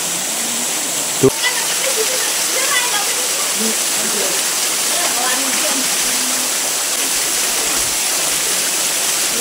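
The Kelame River near Long San in Ulu Baram, Sarawak, flows past in a steady, broad rush of water under a bridge, with a sharp knock early on and faint voices talking beneath the flow.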